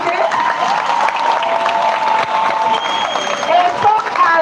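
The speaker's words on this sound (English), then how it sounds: "Keep clapping there." A crowd at a political rally claps and applauds, dense steady clapping mixed with cheering and some voices, loud and continuous over several seconds.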